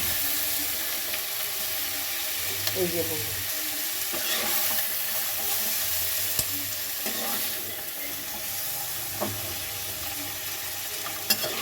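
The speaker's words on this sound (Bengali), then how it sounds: "আমি হালকা করে এগুলোকে ভেজে এবার এগুলোকে তুলে নেব।" Broccoli, capsicum and tomato sizzle lightly in a pan and are stirred, giving a steady frying hiss with scattered scraping clicks. A brief spoken phrase appears partway through.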